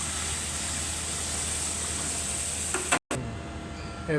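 Sauce for pasta sizzles steadily in a hot pan in a restaurant kitchen in Italy, with stirring scrapes near the end and a brief cut in the sound just after the halfway point.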